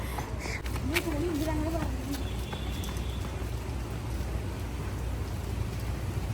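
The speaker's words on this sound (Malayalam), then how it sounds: "നല്ല മഴ കേട്ടോ മഴക്കാലം പോലെ ഉണ്ട്" Heavy rain pours down in a steady, dense hiss throughout, with a brief voice-like sound early on over the constant downpour.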